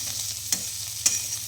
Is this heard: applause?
no